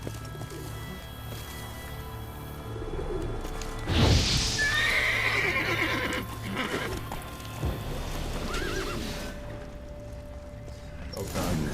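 A horse in The Witcher 3 runs with steady hoofbeats, and a loud whinny breaks out partway through, alongside game ambience and faint bird calls.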